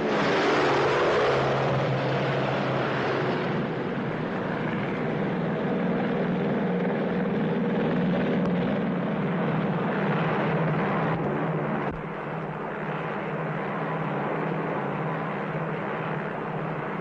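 A propeller airplane gliding down to land in a 1947 setting: a sustained, fairly loud engine drone that eases slightly in pitch and level over many seconds, with no voices.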